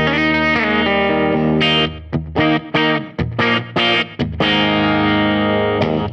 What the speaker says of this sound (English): There's a clean tone, and notice there's a little bit of a slap back.